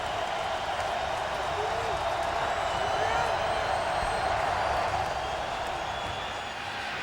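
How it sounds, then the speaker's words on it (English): A steady, roaring stadium crowd at an NFL game between the Detroit Lions and New Orleans Saints rises to fire up the defense, a constant wash of distant cheering that fills the whole stretch and eases slightly at the end. "Crowd firing up the defense here."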